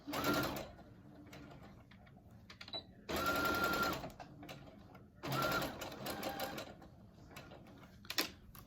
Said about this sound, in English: And go ahead and sew. Make sure you double back.